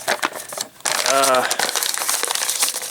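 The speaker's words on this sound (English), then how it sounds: "If I were to try and wrap the sides and the top with just a plain old rectangular sheet of paper" A plain rectangular sheet of paper is crumpled with a brief crisp crinkle while a person talks over it.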